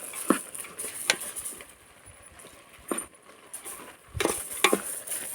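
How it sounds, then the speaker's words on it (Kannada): Salted jackfruit masala mixture being stirred, a few scraping, clattering strokes against the pan at irregular intervals, close and fairly quiet between strokes. "ಇದೆಲ್ಲನೂ ಹಾಕಿ ತಿರ್ಸೋದು"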